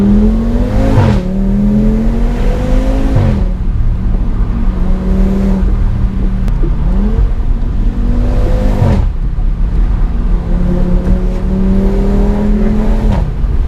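An Audi RS3 engine in sport mode revs hard several times, pitch sweeping up and then dropping, loud and close throughout with a steady roar between the revs.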